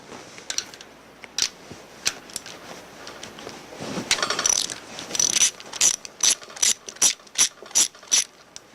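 A ratchet wrench works a nut off a post on a TS410/TSD450 manifold and pump assembly, with quick clicking strokes that speed up into a closely miked series of sharp, evenly spaced ratcheting bursts.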